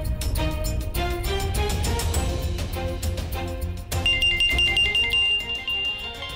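A melodic mobile ringtone plays for an incoming call at home, a steady, bright tune with repeated chiming notes that grows slightly fuller partway through, with no voices over it.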